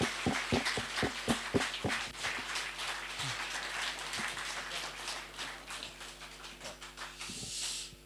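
Applause from a seated audience at a panel discussion event, a faint, steady patter of clapping that opens with a few sharp distinct claps and then settles into a soft continuous rustle under a low background hum.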